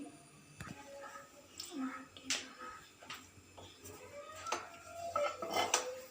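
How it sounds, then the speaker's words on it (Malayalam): A pan being set on a stove: quiet metallic clinks and knocks of cookware, close but faint, scattered over a few seconds. "ഞാൻ പാൻ അടുപ്പത്ത് വെച്ചിട്ടുണ്ട്."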